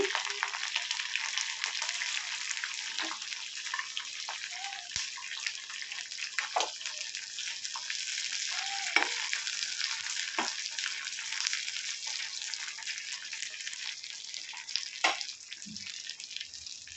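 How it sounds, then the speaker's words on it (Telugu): Green chillies sizzle in hot oil in a kadai, a soft, continuous crackling fry with occasional small pops and stirring scrapes, moderately close and steady throughout, with no talking. "కడాయిలో నూనె పోసిన ఇప్పుడైతే పచ్చిమిరపకాయలు అయితే వేస్తున్నా నేను నూనె కాగింది పచ్చిమిరపకాయలు వేసిన"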